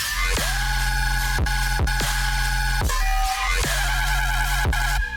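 A thick bass made in the Phase Plant synthesizer, all layers together, plays steady sustained notes, cutting off in short rhythmic breaks, loud and up front with no voices.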